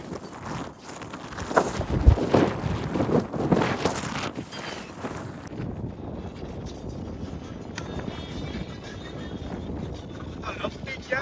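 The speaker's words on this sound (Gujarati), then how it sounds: "પવન આવે છે" Gusty wind buffets the microphone in a steady roar in Gir, stronger in the first few seconds, with voices faintly underneath.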